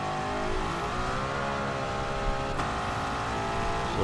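A 1955 Mercedes racing car in a video game holds a loud, steady engine roar with rising and falling revs throughout, a brief shift-like break midway, and no talking.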